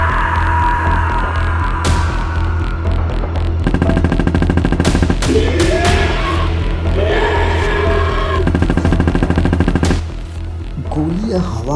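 Rapid bursts of gunfire, like a machine gun, rattle loudly at a monster in repeated volleys over a tense, dramatic background, with voices heard briefly.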